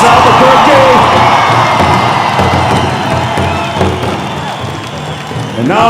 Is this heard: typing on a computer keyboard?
no